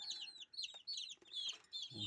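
Many Dakan-breed chicks peep continuously in high, rapid chirps, close and fairly quiet, forming a busy overlapping chorus.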